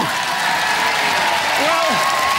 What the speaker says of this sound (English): Ladies and gentlemen, a round of applause, Dominator 2